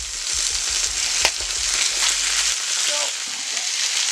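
Italian sausages frying in a pan make a steady close sizzle, with a few faint clinks and light stirring through it.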